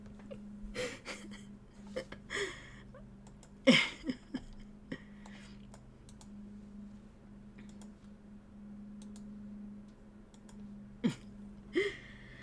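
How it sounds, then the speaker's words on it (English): A few short coughs and throat noises come at irregular intervals over a quiet steady hum, close to the microphone. "I got a cough, hang on a sec."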